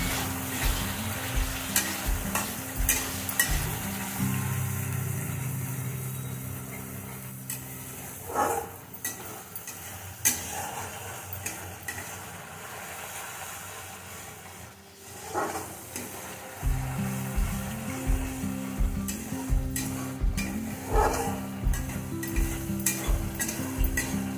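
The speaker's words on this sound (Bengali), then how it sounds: "এবার পোস্ত বাটার জলটা দিয়ে দেব, অল্প করে শুকনো লঙ্কা দিয়ে দেব, কষিয়ে নেব ভালো করে।" Poppy seed paste with dried red chili being stir-fried in a pan, a steady close sizzle broken by repeated rhythmic scrapes of a spatula against the metal, with a brief quieter stretch midway before the stirring resumes.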